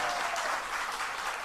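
An audience claps loudly and steadily at a religious gathering, a dense wash of applause filling the whole moment without any talk.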